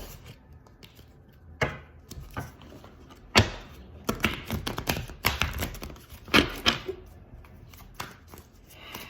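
A deck of tarot cards being shuffled up close, with quick riffling bursts and soft taps and slaps repeating unevenly through the whole stretch.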